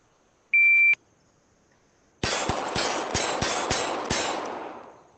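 A shot timer gives one sharp electronic beep to start a pistol drill from the holster, then after a pause a quick string of about seven loud gunshots rings out at a steady pace.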